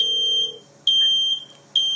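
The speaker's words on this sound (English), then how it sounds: "you can hear the fire alarm sounds ringing in your home on your phone" A home smoke alarm heard through a phone via the FirstFireAlert app: loud, piercing electronic beeps in a steady repeating pattern, three bursts in quick succession with brief gaps, no talking.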